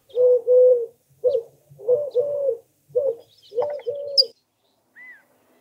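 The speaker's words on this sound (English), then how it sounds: "the Eurasian collared dove." Eurasian collared dove in open country near Juniper Hills, California, gives a clear, close series of repeated hollow coos in a steady rhythmic phrase, with a faint chirp from another bird near the end.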